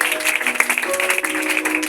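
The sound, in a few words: congregation applauding in praise of the Lord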